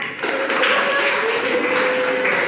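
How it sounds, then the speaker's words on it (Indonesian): Classroom students clap their hands together, a dense burst of applause that starts abruptly and holds steady at close range for a couple of seconds. "Oke, tepuk tangan."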